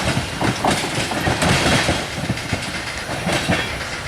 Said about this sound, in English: of a Wheeling and Lake Erie manifest train, mostly tankers, and it might have been an oil train of some sort